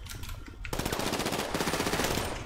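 Rapid machine gun fire in GTA 5 multiplayer, a fast, steady burst of shots that grows denser and louder partway through and runs continuously to the end, with no talk.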